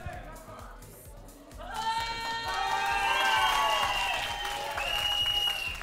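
Applause at a high school graduation ball in Targovishte swells after a quieter opening and stays fairly loud, mixed with voices and a tonal, music-like background.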